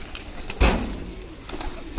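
Pigeons being released coo nearby in a low, continuous murmur, with a brief thump partway through and no talking.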